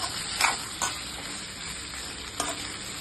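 Tomatoes with rock salt cook in a pan, making a continuous close sizzle with a few brief scraping stirs and bursts of hissing. No one speaks.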